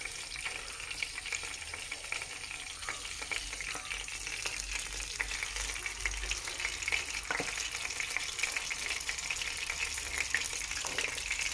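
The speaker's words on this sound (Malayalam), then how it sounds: "അപ്പോൾ അത് ചൂടായി വരുന്നുണ്ട്. നമുക്കതിലേക്ക് ചക്ക ഇട്ട് കൊടുക്കാം" Jackfruit pieces fry in hot oil with a steady, close, bubbling sizzle and fine crackle that holds at an even level throughout, with no talking.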